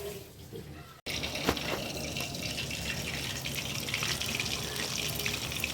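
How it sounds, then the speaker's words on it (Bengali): Lote fish (Bombay duck) hit hot oil after a brief pause, then a steady, loud hiss and bubbling frying noise carries on continuously without talk. "তেলটা গরম হয়ে গেছে, এবার লোটে মাছটা দেবো।"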